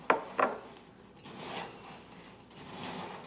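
Stuffing croutons seasoned with sage and oregano being stirred: two sharp utensil clinks at the start, then soft, quiet scraping and shuffling in the bowl.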